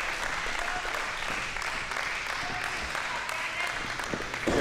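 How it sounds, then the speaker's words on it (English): A wrestling crowd at a Lucha Xtreme show in Hanford cheers and claps throughout, a steady roar of applause and shouting with scattered sharper claps, heard at moderate distance. "Snipes has got this crowd here in Hanford all riled up"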